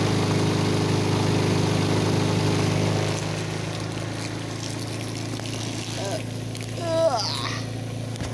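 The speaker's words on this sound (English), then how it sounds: "I just hold the hose in there for a few minutes. It's really loud. And it's rinsing all the clothes." Washing machine rinsing clothes while a hose runs into the tub, a loud steady motor hum with water rushing, easing slightly partway through, with a few clattering knocks near the end.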